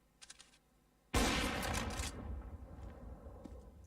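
Burst of gunfire in Counter-Strike: Global Offensive during a competitive esports match, a loud sudden volley that rings out and tails off into game ambience after some faint quieter sounds.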